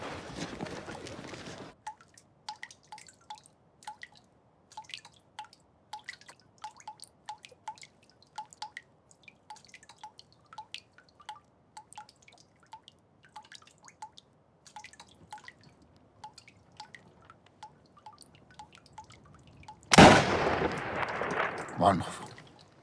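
Water drips steadily inside a timed self-firing rifle device, each drop a small, distinct tick in a quiet room, until a sudden loud burst of noise breaks in near the end.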